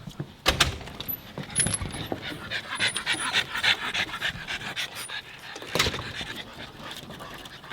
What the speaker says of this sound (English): I'm gonna show y'all the crazy ass dogs he got